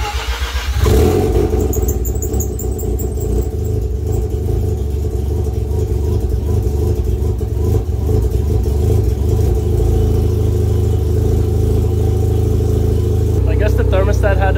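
Mazda RX-7 with a botched, rusty cooling system, started up and left running; the engine catches early and then runs steadily and loudly close by, a constant rotary drone that continues to the end.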